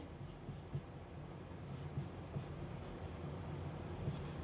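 Pen writing on paper, faint scratchy strokes coming in short irregular bursts over a steady background hiss, with no talk.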